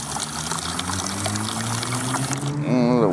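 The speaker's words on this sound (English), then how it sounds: "Let the water drain out so it's not sitting there stagnant." Water pours and trickles steadily out of drilled holes, with a gurgling stream that grows louder toward the end.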